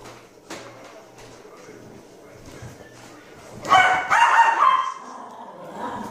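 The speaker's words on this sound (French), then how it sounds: "Désolé, mon chien jappe beaucoup." A dog barks in a short burst of loud, sharp yaps partway through, after quieter indoor background with faint speech.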